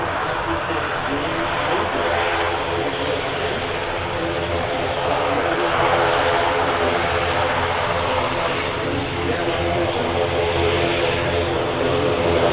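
An ATR turboprop airliner passes close by at Manchester Airport, its engines giving a loud, steady droning hum with layered tonal whine that continues for the whole stretch, with some voice faintly present underneath.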